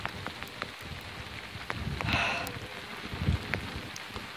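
Hail pelting down during a storm, a steady patter with sharp scattered ticks of stones striking nearby and a brief gust of wind mid-way, heard alone without talk.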